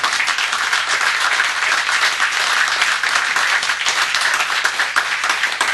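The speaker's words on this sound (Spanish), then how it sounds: "Compañero Luis Delía, un aplauso de los compañeros" Fellow members of a Peronist political group applaud Luis D'Elía in a sustained, even round of crowd clapping that carries on without pause.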